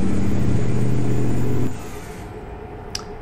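Simulated truck engine from a 900hp Mack ENDDT865 in a Mack R in American Truck Simulator, a loud rumbling rev that abruptly cuts out midway, leaving a quieter low hum and a small click.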